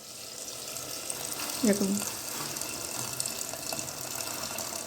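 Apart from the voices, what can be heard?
water poured into chicken curry pot for gravy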